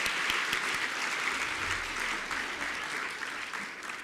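Sustained audience applause fills a university lecture hall at Fort Hare, steady and dense clapping from a large crowd throughout, with no talk over it.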